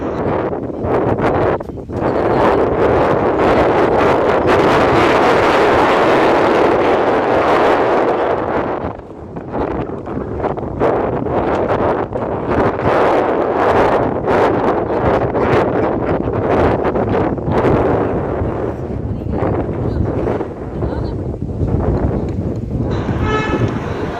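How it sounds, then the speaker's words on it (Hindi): Strong cold wind gusting across a waterfall picnic spot in hilly valley country, buffeting the microphone loudly and continuously with steady roaring rushes and a brief dip midway. "यहाँ पर बड़ी तेज और ठंडी हवा चल रही है।"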